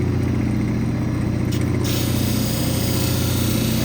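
A cabbing machine's 280 soft wheel grinds West Texas agate, a loud continuous motor hum with a steady whirring drone that stays constant throughout.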